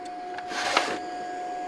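A steady, low, hairdryer-like whir of a DeWalt battery charger's cooling fan runs throughout, with a brief rustle and click partway through, fairly close and moderately quiet.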